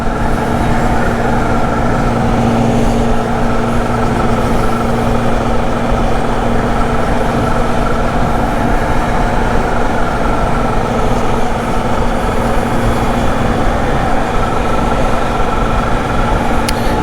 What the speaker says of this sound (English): And that supercharger noise is just so cool.